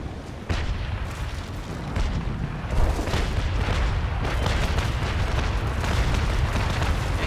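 Heavy cannon booms from ships trading fire in the naval sailing game Naval Action, loud, dense overlapping blasts with rumbling low end rolling continuously, no speech.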